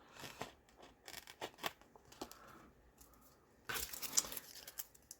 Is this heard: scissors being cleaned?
yes